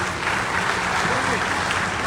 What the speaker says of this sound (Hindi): एक बार नीलेश जी की ताली बताइए भाई